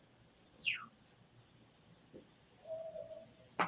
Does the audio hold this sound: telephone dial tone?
no